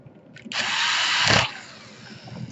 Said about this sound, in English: Now long screws go into the